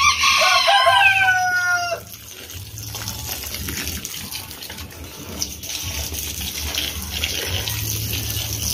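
Water splashes from a tap to wet chicken feed, running loudly and close from start to finish. A rooster crows at the start, and the pouring continues alone after it.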